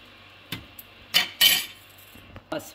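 A spoon clinks and scrapes against a bowl while radish chutney is mixed with green chilli paste, ginger-garlic paste, curd and turmeric; several sharp, separate clatters sit close by with quiet gaps between them.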